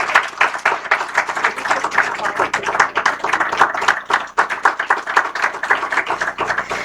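An audience claps for Chief Minister Bhupendra Patel at a felicitation ceremony in Chhotaudepur. The applause is loud, close and continuous, made of rapid, overlapping hand claps with a faint murmur of voices beneath.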